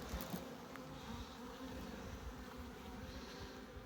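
Honey bees drone in a continuous, even buzz around an open hive frame, close and steady with no talking.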